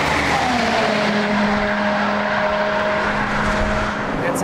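A G-Power tuned car with 215 PS more than before accelerates hard at high speed on the Autobahn, a loud continuous engine roar with rising tones and heavy wind rush.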